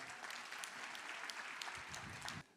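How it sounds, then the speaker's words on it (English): A stage audience at a real estate team event claps in a sustained round of applause, dense and even, fading abruptly at the end. "Give it a round of applause,"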